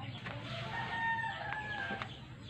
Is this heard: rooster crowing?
yes